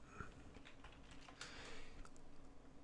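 Quiet typing on a computer keyboard, a soft run of irregular light key clicks with no talking.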